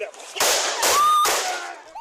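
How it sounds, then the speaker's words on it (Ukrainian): Three gunshots fired by a police officer at a car driver during a traffic confrontation ring out as sharp, close bangs about half a second apart, set against a noisy background of commotion. "Врешті три постріли"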